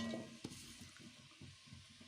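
Onion stirred in a pot of moderately heated olive oil over a high gas flame, a soft sizzle with quiet, rhythmic scraping strokes and a sharper knock early on, faint and close.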